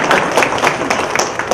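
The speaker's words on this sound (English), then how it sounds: "you can clap for that" Audience clapping at a talk on freelancing: a short burst of scattered, uneven claps with sharp broadband hits that keep up steadily across the moment.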